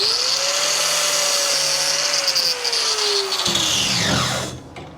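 A grinder cuts a notch into a Chevy COE truck frame to make room for a weld. It gives a steady, close, loud whine whose pitch climbs slightly and then sags, and it cuts off near the end.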